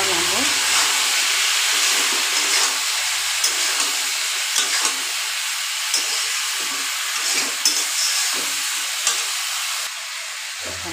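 Vegetables are sautéed in a pan with a steady, close sizzling hiss and occasional stirring clinks and scrapes.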